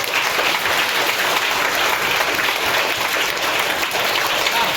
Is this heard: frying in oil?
no